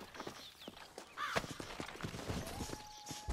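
Horse hooves clip-clop in a rhythmic series of soft, close steps, interspersed with game ambience, from a horse ridden in Red Dead Redemption on Xbox 360.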